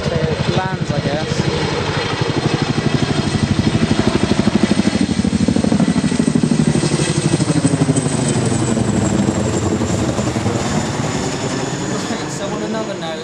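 A Chinook helicopter landing nearby, its twin rotors beating in a loud, fast, heavy chop with a whining turbine above, the pitch of the blades sliding as it settles, and wind buffeting the microphone.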